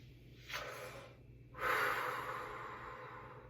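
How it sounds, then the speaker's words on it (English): A breathing warmup for a band or choir sectional: two audible breaths, a short sharp intake followed by a longer, louder push of air out, close and clear with no talking. "breathing all of the air in, filling up, and pushing out"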